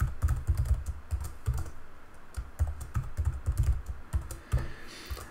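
Steady clicking keystrokes on a computer keyboard as a terminal command is typed, close and fairly quick with small pauses between bursts of keys.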